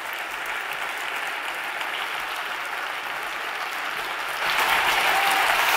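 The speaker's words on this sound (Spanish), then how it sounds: "Un fortísimo aplauso para los tres." A seated conference audience gives a long, warm round of applause for three writers taking the stage, a dense steady clapping that swells louder near the end.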